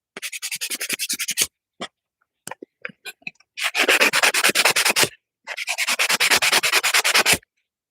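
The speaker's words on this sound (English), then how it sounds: "Let me get a piece of sandpaper and scuff this a little bit" Sandpaper scuffs a surface in close, rapid back-and-forth strokes, with one long burst, then scattered short scrapes, then two more long rhythmic bursts.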